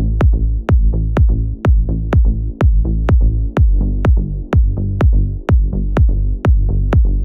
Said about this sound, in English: Together with the Reese bass and the kick,